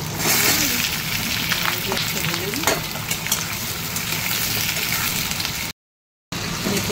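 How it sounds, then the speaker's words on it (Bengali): Bay leaf frying in hot oil in a pan gives a dense, continuous close sizzle with small crackles, and a faint voice sounds briefly in the background. "রান্না শুরু হয়ে গেছে, তেজপাতা দিয়ে দিলাম"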